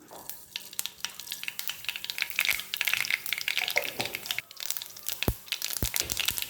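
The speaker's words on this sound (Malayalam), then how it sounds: "അപ്പം നമുക്ക് കടുക് ഇട്ട് കൊടുക്കാം." Mustard seeds hit hot coconut oil in a pan, sizzling and popping in sharp, scattered crackles, with stirring scrapes and bursts of spluttering close by, with no talk.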